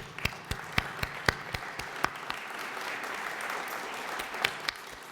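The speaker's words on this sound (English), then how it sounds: "And a round of applause," Lecture-hall audience at a 2013 metamaterials talk breaks into applause: loud, distinct claps up front over a thick bed of clapping from the room, continuing evenly throughout.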